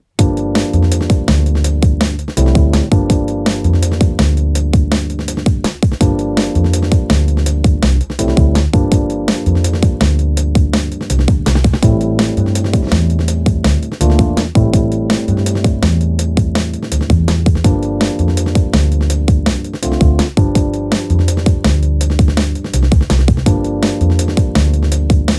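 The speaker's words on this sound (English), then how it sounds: "we're going to listen to an absolutely pristine Rhodes sound within this track that I've prepared." Logic Pro's stock Rhodes-style electric piano, unprocessed, plays sustained chords and a melody, bright and dry, continuous and full with no voices.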